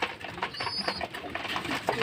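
Young pigeons peck and feed on scattered grain, giving soft irregular taps and shuffles close by, with a faint coo in the background.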